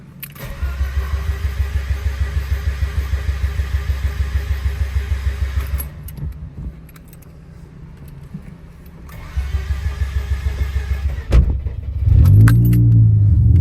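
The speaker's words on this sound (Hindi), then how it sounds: "स्टार्ट होने में काफ़ी टाइम लगा दिया, बंद हो गई" Car engine cranking repeatedly with a steady rapid starter rhythm, struggling to catch, pausing, cranking again, then briefly catching and stalling, close and loud with keys jangling.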